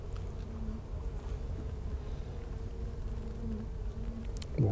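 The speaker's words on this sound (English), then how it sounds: "there's a lot of bees on there" Honey bees buzzing around an open hive during a beekeeping inspection of a small swarm colony, a steady low drone of many insects close by with occasional louder passes near the microphone.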